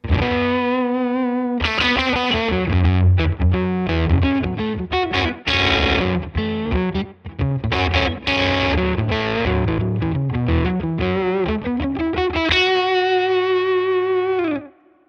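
Electric guitar runs through a Mythos Pedals Hephaestus variable-voltage fuzz with the guitar volume knob rolled back, producing a steady stream of sustained fuzzy notes and chords with chorus-like shimmer, loud and continuous without pause, no talking.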